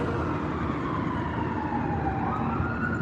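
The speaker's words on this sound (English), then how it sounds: "I hear the sirens." A faint siren wails slowly up and down in the distance on Fremont Street in downtown Las Vegas during a punk music festival, over a constant low background roar.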